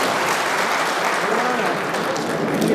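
A large audience at a sheep distribution event in Jagtial district breaks into loud, sustained applause welcoming the chief minister, dense clapping filling the space throughout.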